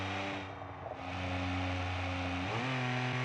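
A straight-piped car engine with no exhaust revs steadily and loudly in a BeamNG racing game, holding a droning tone before the pitch dips and climbs again.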